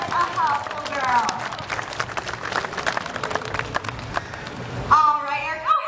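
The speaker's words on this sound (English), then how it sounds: "Let's give her a round of applause." Audience applause at a state fair bird show: scattered, uneven clapping from an outdoor crowd runs under a person talking, with a brief swell of claps near the end.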